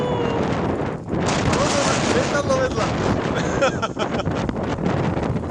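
Strong gusting wind buffets the microphone at a paragliding launch on Zobor hill, roaring steadily and close throughout, with brief voices speaking over the gusts.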